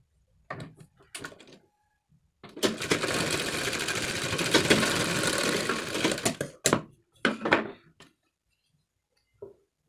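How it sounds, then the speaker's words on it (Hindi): A sewing machine stitches the shoulder seam of a kurti in one steady burst of about four seconds, close and clear, with scattered clicks and knocks of handling the cloth before and after; no one speaks. "मजबूत सिलाई लगाकर डेढ़ पैर के दबाव से स्टिच कर देंगे"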